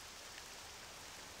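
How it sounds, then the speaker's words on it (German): Soft, even hiss of steady rainfall in the video game Octopath Traveler 2, faint and continuous, with no voices or other distinct sounds. "Und da ist er, der lila Regen."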